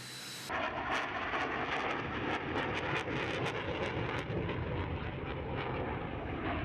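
A T-50 supersonic jet aircraft in flight, a loud, broad, steady engine roar that starts abruptly and holds for several seconds with slight fluctuations, with no talking.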